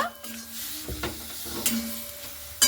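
Raw mango with salt and turmeric fries in hot oil while being stirred constantly, a soft close sizzle with scraping spatula strokes and a couple of sharp metallic clinks, no talk.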